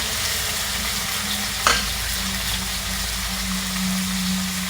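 A large tilapia, nearly a kilogram, frying in a pan with a steady close sizzle and crackle, plus a brief clatter partway through.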